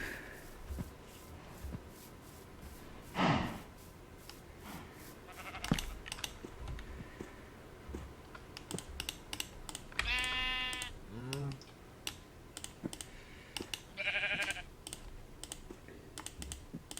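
Sheep bleating in modded Minecraft, two or three separate wavering bleats, one long and loud, mixed with brisk computer keyboard typing and mouse clicks throughout.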